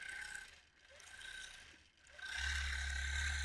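A sewing machine stitches during free motion quilting, running in two quiet mechanical bursts with brief pauses before a louder steady whirring run, close and without speech.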